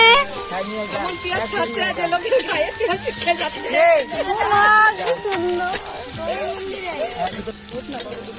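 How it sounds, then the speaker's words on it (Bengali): A dal tempering sizzles and crackles steadily in hot oil at an outdoor picnic, loud and close, while people talk over it throughout. "তো এখন এই যে ডালের ফোড়ন দেওয়া হয়ে গেছে"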